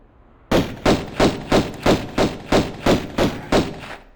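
Gunfire in the Tomb Raider game during a fight with a puma near a gate, ten evenly spaced heavy shots roughly a third of a second apart, loud and punchy with no talking.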